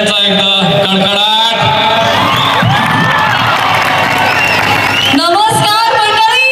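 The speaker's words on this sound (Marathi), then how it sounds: "जोरदार टाळ्यांचा एकदा कडकडाट." Audience at a school's annual gathering applauding and cheering loudly for an actress, with children's shouts and whoops mixed into a continuous roar while amplified voices carry over the crowd.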